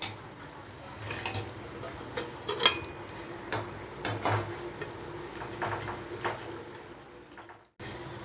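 Metal utensils clink, scrape and knock against a vessel as fried flour mathri are lifted out of hot oil, a run of close, light clatters over a faint sizzle, with no talking.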